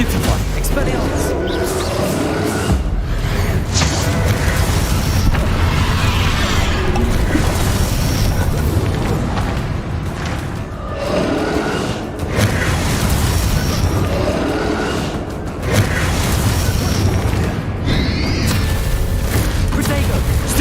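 Spell blasts in Hogwarts Legacy, loud booming impacts, crashes and bursts piling up in dense, continuous combat with barely a break.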